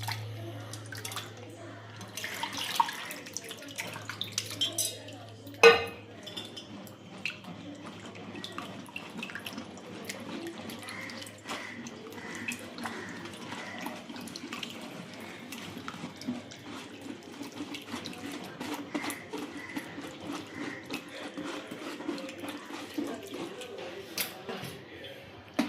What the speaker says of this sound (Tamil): இந்த மாதிரி புளியை லைட்டாக மட்டும் வடிகட்டிட்டு